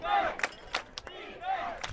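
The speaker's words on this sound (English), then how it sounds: "Ada crowd cheering" A crowd cheers at an Ada versus Madill high school football game, with bursts of yelling and whooping, some sharp shouts and claps rising and falling across two seconds, heard at moderate distance.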